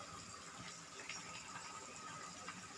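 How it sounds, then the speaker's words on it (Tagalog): A little water poured into a cooking pot, a faint steady trickling gush running for a few seconds with no talk. "Dagdagan natin ng kunting tubig."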